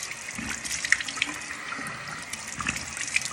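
Water runs from a tap into a sink for washing a face, a steady close splashing stream with small irregular drips and gurgles, no voices.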